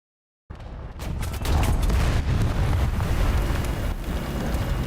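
A tank shell striking the track of an M1 Abrams in the War Thunder video game, a loud booming impact that settles into sustained rumbling battle noise and engine drone.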